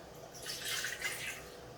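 Melted candle wax pours steadily into a cup for wood wick candles, a soft continuous liquid trickle and splash running close by for nearly two seconds with no talking.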